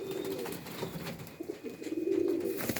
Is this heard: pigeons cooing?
yes